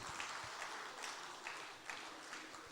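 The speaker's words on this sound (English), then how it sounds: "I think everybody deserves a round of applause, please." Applause from conference participants and attendees at a climate change summit breakout session, steady dense clapping heard faintly from a distance throughout.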